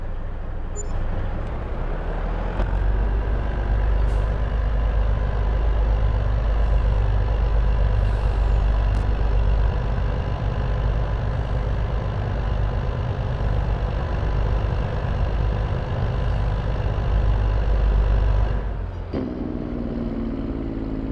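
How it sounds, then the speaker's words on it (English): Diesel truck engine from the farming video game Farming Simulator 22, with its Jake brake, heard from outside the cab: a loud, steady low rumble that holds for most of the stretch, then drops away near the end. "that Jake brake sound definitely more noticeable outside the cab than in"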